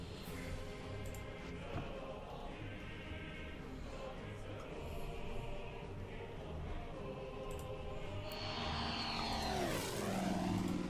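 Propeller planes in the wargame Order of Battle, a steady droning engine hum with layered harmonic whine that swells near the end as an aircraft sweeps past with a falling pitch, over faint game ambience.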